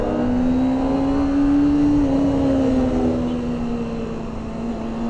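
Stock-exhaust Kawasaki ZX-25R motorcycle engine held at high RPM, a loud steady high-pitched whine that sags slightly in pitch partway through, continuous and close with no talking.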